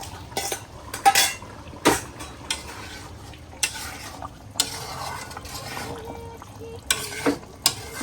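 Desi koi and shing fish pieces drop into a simmering papaya curry pot, giving sharp clatters and knocks of a utensil against the pot over a low bubbling hiss, with no talk.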